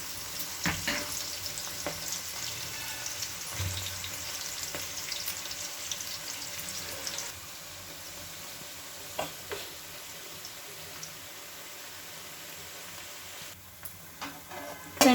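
Onions browning in plenty of oil for a chicken fry, a soft continuous sizzle with occasional stirring clicks and scrapes, quieter in the second half.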